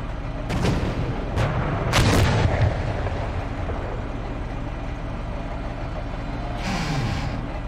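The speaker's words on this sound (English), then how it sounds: "We're taking fire here." Gunfire and artillery in a military combat video game, with several loud sharp bursts and booms early on, a rumbling battlefield background throughout, and another blast near the end.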